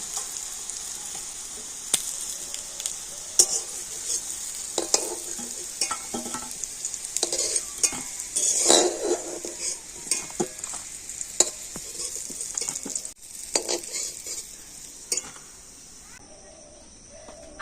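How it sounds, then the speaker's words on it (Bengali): Vegetables fry in oil in a kadai with a faint, continuous sizzle, broken by occasional sharp scrapes and clinks as a spatula stirs and turns them. Soft background chirping runs underneath. "এগুলোকে না খুব সুন্দর করে আমি উল্টে পাল্টে আর লাল লাল করে ভেজে নিয়েছি"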